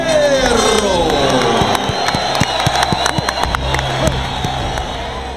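A boxing arena crowd of Filipino fans at a Manny Pacquiao fight roars and cheers loudly, a dense wall of shouting and whooping with sharp claps and whistles popping through, easing slightly toward the end.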